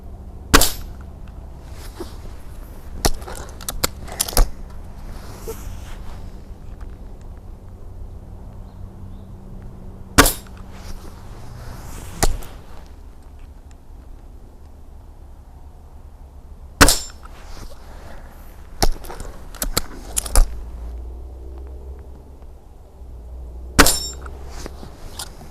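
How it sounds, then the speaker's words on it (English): Air gun shots at a rimfire/air gun shooting target, heard as sharp isolated cracks spaced irregularly several seconds apart over a low, steady background hum, with no talking. "We used an air gun on it"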